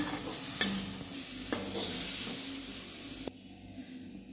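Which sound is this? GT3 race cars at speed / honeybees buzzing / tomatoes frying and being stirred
tomatoes frying and being stirred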